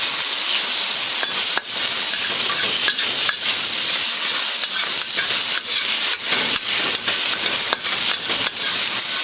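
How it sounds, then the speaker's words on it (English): Beef searing over high heat in a hot wok, a loud, continuous hissing sizzle close up, broken by frequent quick scrapes and tosses as the meat is stir-fried. "So now we're just going to put the beef down and sear."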